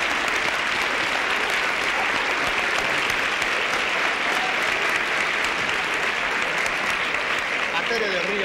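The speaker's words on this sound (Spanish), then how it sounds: "Aplauso para Virgo." A studio audience at a comedy show breaks into loud, continuous applause that holds steady for several seconds without pause.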